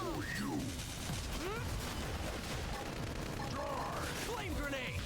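A mech fires a volley of missiles in the Xenoblade Chronicles X video game, producing rapid bursts of booming launches and blasts over dense battle noise. Game voices shout over the barrage.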